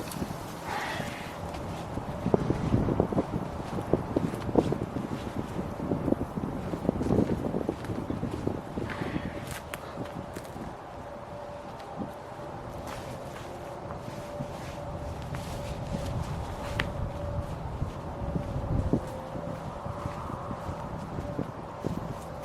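Steady left-to-right wind gusting across an open disc golf course, a continuous broadband rush with buffeting bursts against the microphone and faint scuffing steps underneath.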